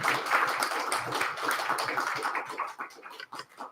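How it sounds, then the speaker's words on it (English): An audience at a Seattle Indies speaker series talk claps for the speaker in a burst of dense, close applause that thins out toward the end. "Let's hear a round of applause."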